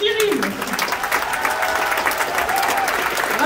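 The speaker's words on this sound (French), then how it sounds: "je voudrais qu'on applaudisse celui qui a pris les rênes du festival cette année, Cyril" Audience applauding at a film festival's closing awards ceremony, steady dense clapping throughout with a few voices and cheers mixed in, fairly close.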